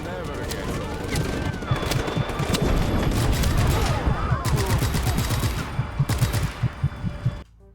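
Dense gunfire and booming explosions from the Just Cause 3 video game, sustained rapid bursts and rattling automatic fire over a rumbling low end, loud throughout before cutting off abruptly.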